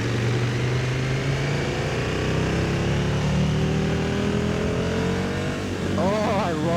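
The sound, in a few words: 2024 KTM 1290 Super Duke GT motorcycle engine revving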